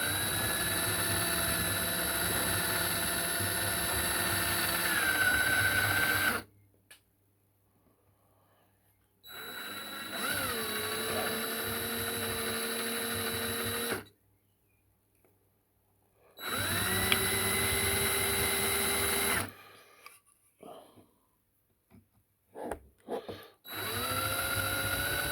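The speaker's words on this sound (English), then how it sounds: "have I really got to drill those rivets out?" A power drill drilling out the rivets of a Matchbox model car, whining steadily in three long close bursts separated by silent pauses, with short scratchy bits between them.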